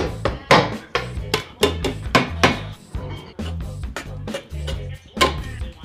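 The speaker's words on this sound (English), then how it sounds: "we're gonna drill these with a screwdriver because we don't have a drill" Screwdriver punching holes through a gas mask, heard as a series of sharp, close knocks and taps in an irregular rhythm, around a dozen impacts.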